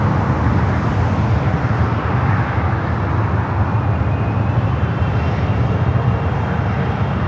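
An airliner begins its takeoff roll on runway 24 left at LAX, a steady, broad, distant roar that holds at an even level without a break.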